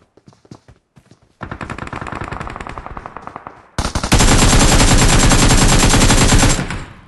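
Gunfire in the mobile battle game PUBG Mobile: scattered single shots, then rapid automatic bursts, ending in a loud, sustained stream of machine-gun fire close up.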